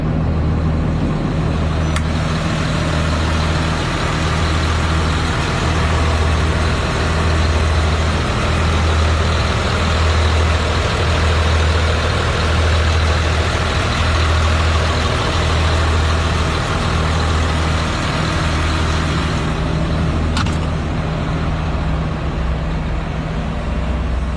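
An imported Japanese Kawasaki 85Z7 wheel loader's diesel engine runs at a steady idle, loud and close. It throbs continuously with a low rumble for over twenty seconds, with no talk.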